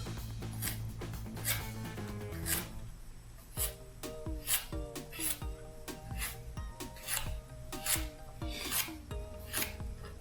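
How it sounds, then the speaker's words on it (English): A knife slices vegetables into quarter-inch rounds on a cutting board, giving a steady series of quiet, crisp chops and scrapes in a regular rhythm. The cuts are close and fairly faint. "let's get to chopping. Slicing and dicing, 1/4 inch rounds"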